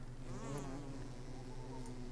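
Insect buzzing from a bee in the Don't Starve video game, a steady droning hum that holds at moderate level for a couple of seconds, alone with no talk.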